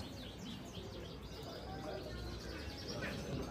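Songbirds such as magpie robins chirp and sing at a crowded bird market, steady busy chatter under continuous talk from nearby voices.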